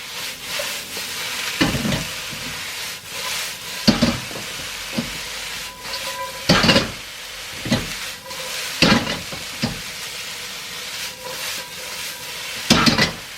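Calamari frying in a hot pan with salt and pepper tossed in, a steady sizzling hiss broken by repeated louder bursts as the pieces are stirred, close and fairly loud with no talking.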